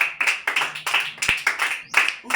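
A congregation at a church service claps in a steady rhythmic beat, about two or three claps per second, close and lively, with voices faintly mixed in.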